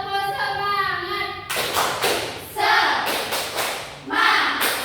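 A primary school class performs a rhythmic spirit clap, bursts of many hands clapping in patterned groups after a sung or chanted opening, with children's voices mixed in.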